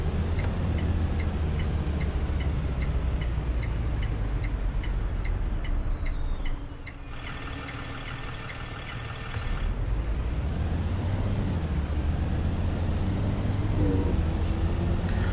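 A bus idles and moves with a loud continuous engine rumble, a sharp hiss of air brakes releasing midway, and faint repeating beeps in the background.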